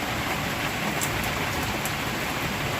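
Heavy monsoon rain falls in a dense, steady wash of hiss that holds an even level from start to finish, with no voices over it.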